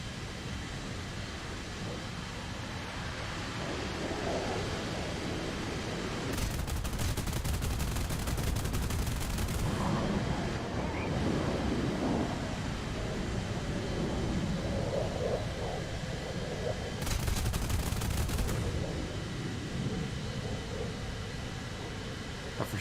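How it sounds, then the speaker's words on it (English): A Me-262 jet fighter fires all three guns in War Thunder, with two loud bursts of rapid gunfire cutting through continuous engine roar, each lasting a second or two. "I'm gonna fire all three guns at him."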